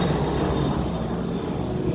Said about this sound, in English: Sounds like a helicopter just went over.